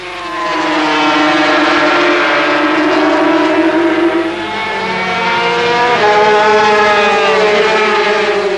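Racing 250cc motorcycles at the Silverstone circuit in 1983 scream past one after another, a loud sustained high-revving engine drone with shifting pitch as they sweep through a curve toward the pit straight.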